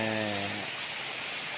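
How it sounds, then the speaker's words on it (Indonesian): Heavy rain pouring down at a forest bird-watching spot, a dense, loud, steady hiss with a brief tonal hum fading out at the start. "makin hari kayaknya hujan ini makin deras"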